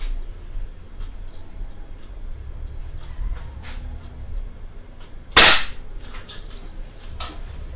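A single sharp, loud shot from a carbine rings out during rifle maintenance and testing, sudden and close against a quiet background with a few faint clicks around it.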